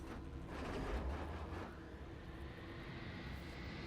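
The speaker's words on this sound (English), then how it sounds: "Listen to those engines." Airship engines in the Worlds Adrift video game, a steady loud droning rumble with a low throbbing tone that swells briefly and then holds on evenly, with no voices.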